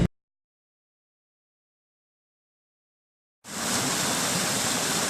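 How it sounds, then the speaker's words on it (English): A mountain creek on Mount Graham rushes in a steady, broad hiss of flowing water. It starts suddenly after a stretch of silence and keeps a constant level to the end. "Didn't know there was a creek up here."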